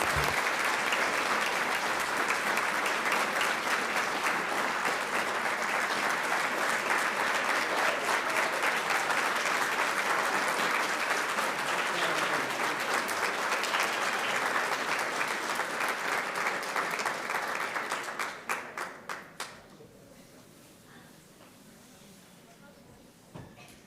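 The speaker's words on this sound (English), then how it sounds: "one more round of applause for their incredible service" Audience at a school board meeting gives a long, sustained round of applause that stays full for about eighteen seconds, then tapers off into a few scattered claps and a quiet room.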